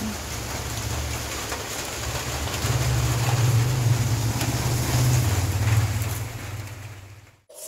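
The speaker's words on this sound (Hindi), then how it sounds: "बारिश फिर से स्टार्ट हो गया है।" Steady rain falls outdoors on an evening in India, a dense, continuous hiss with a low rumble underneath that swells in the middle and fades near the end.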